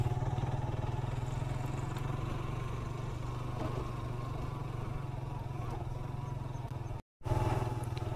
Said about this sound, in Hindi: अभी मेरी बाइक लेके जा रहे हैं, बाइक रिपेयर करके मिली नहीं, हम लोग जा रहे हैं ट्रेल पे।